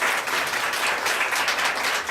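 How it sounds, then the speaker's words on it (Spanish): An academic colloquium audience claps for three speakers, a loud continuous patter of many hands throughout with no pauses. "este es un aplauso merecidísimo para nuestros tres expositores"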